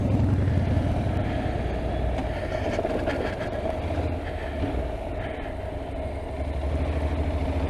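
A motorbike idles steadily and fairly loudly at a country barn meet, its low engine rumble continuous throughout with faint background activity around it.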